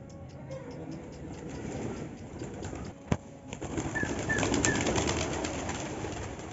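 Pigeons at a pigeon farm coo and flutter over a steady background hum, with a sharp knock or clap partway through and no talking.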